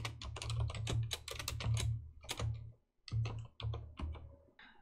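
Fingers type code on a computer keyboard in quick bursts of crisp clicking keystrokes, with a short pause before a final few strokes, over a faint steady hum.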